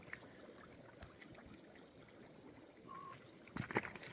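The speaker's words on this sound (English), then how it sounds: "Here you could really hear the bubbling." Bubbling water welling up from an old coal-mine bore hole at Rauhala, a quiet trickling and gurgling close by, with a brief bird call and a few louder splashy bubbles near the end.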